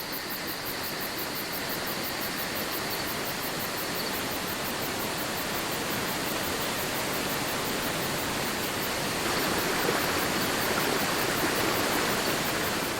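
A stream flows through a cool, damp gorge on Rhodes, giving a steady, dense rush of water that holds even and continuous throughout, growing slightly fuller near the end, with no voices.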